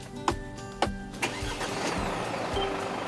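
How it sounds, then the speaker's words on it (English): A Mercedes camper van engine is started by push button: a few sharp starter cranks, then the motor catches and settles into a steady mid-pitched idle, close and clear, no talking. "To start the engine, put your foot on the brake and press the start button."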